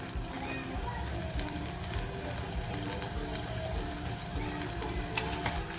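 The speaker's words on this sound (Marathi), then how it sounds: "बघा आपला कांदा सोनेरी होतोय ना तर मी ही लसूण तेचून घेतलेली आहे आणि ही लसूण सुद्धा अशी छान खमंग परतवून घेणार आहे" Onion and garlic sautéing in oil in a pan, a constant dense crackling sizzle heard up close with no pauses and a faint voice in the background.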